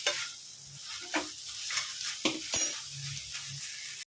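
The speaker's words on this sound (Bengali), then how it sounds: "কলমি শাক ভাজা আমার হয়ে গেছে" Water spinach being stir-fried in a pan, with soft sizzling and a few scraping, stirring strokes of a utensil against the metal, close and fairly quiet before it cuts off abruptly.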